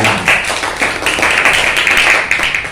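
Classroom of sixth-grade students clapping together for a good answer, a brisk burst of hand claps with a few taps standing out, close and fairly loud, with no talking over it.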